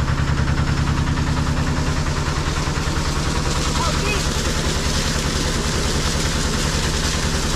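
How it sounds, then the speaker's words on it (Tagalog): A farm machine's engine idles steadily and close by, a low, even throb running throughout, as it sits running after repair, ahead of an oil change and a carburetor fix. "okay na yung makina natin"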